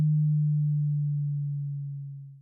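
A continuous steady sine tone, like equipment hum before a concert, sits low and pure, loud at first and fading gradually before cutting off.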